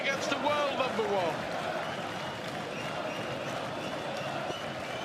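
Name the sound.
darts crowd applauding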